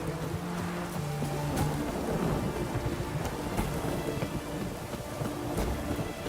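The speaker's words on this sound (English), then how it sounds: "What a downpour" Heavy rain pours down in a video game, a dense continuous hiss of downpour with low rumbling thunder beneath, steady and enveloping with no voices.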